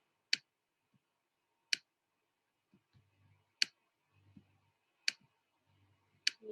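Computer mouse clicked five times, each a sharp, faint single click spaced over a second apart in a quiet room, with soft low handling noises between the clicks.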